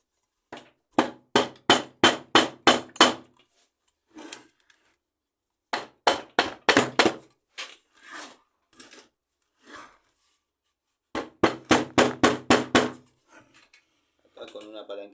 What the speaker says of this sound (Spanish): Vamos a buscar que se haga presente el martillo de goma.